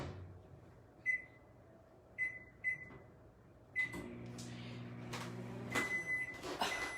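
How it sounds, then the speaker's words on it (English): A few short electronic beeps sound from a keypad, then a steady mechanical hum starts up with a low whir, an appliance switched on and running. "I'm going to pop this in the microwave"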